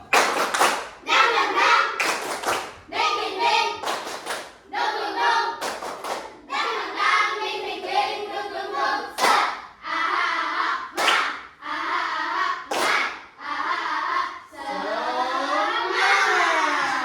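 A school class performs a rhythmic clapping chant led by a teacher, with sharp bursts of group claps separated by chanted vocal phrases, loud and close, alternating in a lively pattern for over fifteen seconds.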